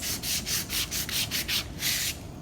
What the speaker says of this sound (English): It doesn't need much sanding, just a little bit